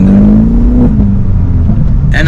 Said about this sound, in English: Very nice burbles. You know, it's just that the exhaust note is deep.